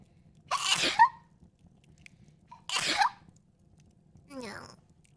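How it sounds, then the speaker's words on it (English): Two forceful sneezes from a livestreamer come a couple of seconds apart in an otherwise quiet room, followed by a softer short vocal sound. "Oh, I gotta sneeze."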